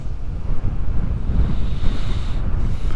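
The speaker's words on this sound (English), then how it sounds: "look at that sea splashing up" Sea waves surge and splash against the shore on the Suffolk coast at Bawdsey, a steady rushing roar mixed with heavy wind buffeting the microphone, with no voices.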